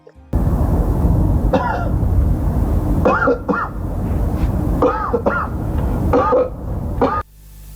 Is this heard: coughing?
yes